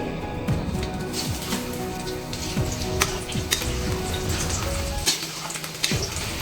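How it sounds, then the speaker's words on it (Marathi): Garlic shallow-frying in the same oil used earlier to fry shev, a steady crackling sizzle with occasional utensil clinks, close and continuous throughout. "आणि आपण जी शेव तळली ना तेलामध्ये त्या तेलामध्ये आपल्याला हे तळून घ्यायचे आहे"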